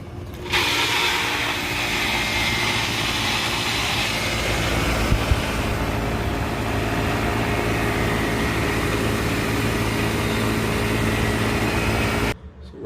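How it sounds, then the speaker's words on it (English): An air conditioning condensing unit runs with its compressor and fan motor going, a steady broadband whir and hum that holds evenly close by for about twelve seconds before cutting off abruptly at the end. "I want to check to see if my condensing unit runs"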